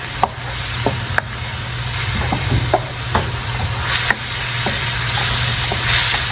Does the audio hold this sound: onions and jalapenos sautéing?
yes